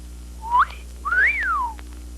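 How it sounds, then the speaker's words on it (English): Wind whistles around a street corner as a tonal whistle: a short rising chirp, then a longer swoop that climbs and falls away. Both sound over a steady low hum from an old recording. "The wind whistles around a street corner."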